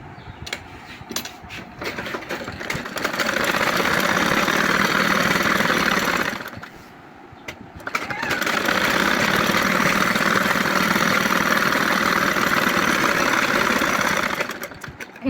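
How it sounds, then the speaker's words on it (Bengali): A sewing machine runs in two long stitching bursts, steady and fairly loud, with a short pause between them, while topstitching fabric for a hijab cap. "এখন এর উপর দিয়ে আমি চাপ সেলাই দেবো।"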